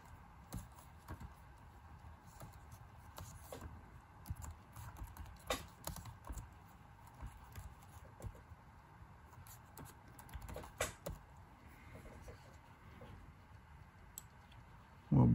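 Sparse keystrokes and clicks on a computer keyboard, close and fairly quiet, with irregular taps and pauses and no talking.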